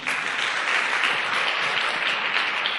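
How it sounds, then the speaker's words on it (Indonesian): A seminar audience at a motivational business talk bursts into dense, steady applause, loud and sustained the whole time with no pause. "Tepuk tangan buat One Vision."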